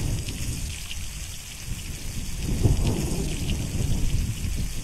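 Video game thunderstorm in The Long Drive: steady heavy rain with a low rolling thunder rumble that swells midway, continuous and fairly loud, with no talking.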